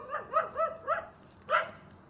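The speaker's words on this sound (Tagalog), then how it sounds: "galit na yung aso" An angry dog gives four quick, close barks in a row, then a short pause and one more sharp bark, fairly faint overall.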